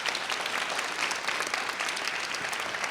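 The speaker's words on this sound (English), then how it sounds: "Let's give them a big round of applause." Audience applause for panelists at a discussion event, dense steady clapping from a full room, sustained throughout without talk.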